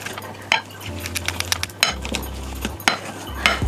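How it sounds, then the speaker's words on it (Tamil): Peeled potatoes mashed in a pot, with close, repeated metallic knocks, clinks and scraping of the masher against the pot in an uneven rhythm over a low background hum. "இப்போ நாங்கள் உரித்த உருளைக்கிழங்க நல்லா மசிச்சு விடலாம்."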